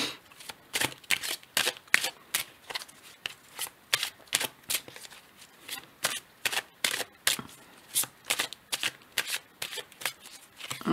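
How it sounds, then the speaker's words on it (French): Oracle cards are shuffled before a draw, making a steady run of soft, close riffling flutters at a regular rhythm. "je vais tirer une autre carte de cet oracle"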